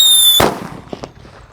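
A Happy Power 3 firecracker goes off inside a gallon jug with a single sharp, loud bang, and a couple of faint rattles follow as the blast dies away.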